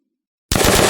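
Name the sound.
automatic weapon firing in Unreal Engine zombie video game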